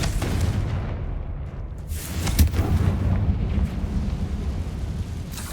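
A Confringo spell explosion from the video game Hogwarts Legacy: a sustained, rumbling burst with a sharp crack around the middle, followed by a continuing low roar and crackle with no talking.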